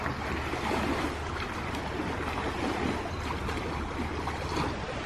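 Whitecapped waves wash and churn continuously on a cottage lake after a storm, a steady broadband roar with wind-like hiss and no clear breaks.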